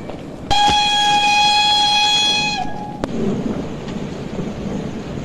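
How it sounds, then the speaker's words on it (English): A sleeper express train to London Euston stands at a station platform and sounds a loud, sustained horn blast for about two seconds, followed by a sharp clank and a steady rumble of the train and station. "The train standing in number 4 platform is the sleeper express"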